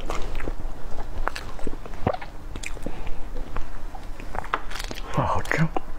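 Soft bites and moist chewing of a strawberry Basque cream cake sound up close in scattered smacks and squishes, with a quiet voice speaking briefly between mouthfuls.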